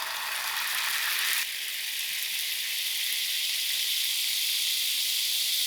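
A quarter cup of melted butter sizzles steadily in a frying pan over moderate heat, a continuous bright hiss that softens slightly after the first second and then holds even to the end.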